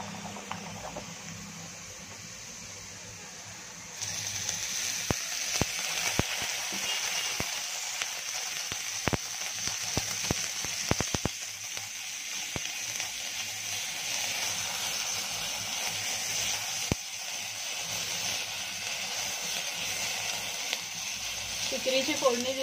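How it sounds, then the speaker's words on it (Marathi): A hot clay shard dropped into bombay duck and black-eyed bean curry for tempering, bursting into a loud sizzle and hiss a few seconds in that crackles steadily on with sharp pops, with talking over it. "आता आपण मस्तपैकी ठिकरीची फोडणी देऊया"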